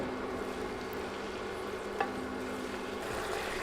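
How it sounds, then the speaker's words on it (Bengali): Ground spice paste fries in a pan for a hotel-style chicken soup, giving a steady low sizzle with soft scraping from stirring and one brief clink of the utensil. "বাটা মশলাগুলো মিনিট খানেক নেড়ে নেড়ে ভেজে নিব"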